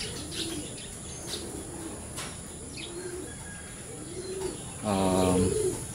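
Pigeons coo softly against steady outdoor background noise, then a sudden burst of wing flapping and landing noise swells near the end as a racing pigeon arrives at its loft.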